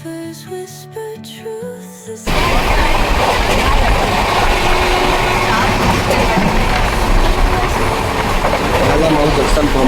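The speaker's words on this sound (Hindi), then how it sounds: "ट्रेन जो है हमारी वो हरदोई रेलवे स्टेशन पे पहुंच गई है" Passenger train Triveni Express arrives at Hardoi railway station, a loud, close rumble of wheels and cars rolling steadily after a few seconds of music at the start.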